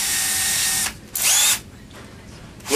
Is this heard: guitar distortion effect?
no